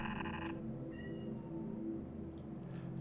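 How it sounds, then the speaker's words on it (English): A pet cat meows once or twice, soft and somewhat distant, beneath a steady low electronic hum and game background sound. "I heard my kitty meow at me."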